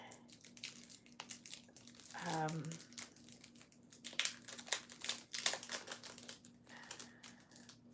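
Cross bookmarks on a little card being taken out: close, quiet crinkling and rustling of paper and plastic with light taps and clicks, a short crackly burst in the middle, with a voice talking over it.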